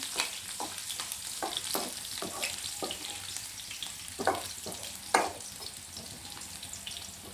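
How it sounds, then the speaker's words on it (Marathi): Green chillies with cumin roast in a pan over a soft, steady sizzle, broken by a run of rhythmic stirring scrapes and taps close by; no one speaks. "मग हिरवी मिरची, आपल्याला चांगली भाजून घ्यायची"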